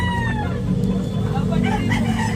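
A rooster crows at a busy poultry market in Tabunok, its call rising over crowd noise and nearby talk, with other fowl clucking close by.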